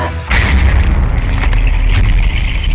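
A sudden heavy explosion effect from a Filipino aswang horror audio drama, a deep booming burst followed by a sustained rumbling roar with crackling debris that stays loud to the end.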